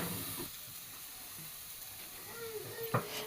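Grated coconut fries in oil in a pan, making a soft, steady sizzling hiss with faint stirring scrapes and a brief clink near the end, all heard at low volume.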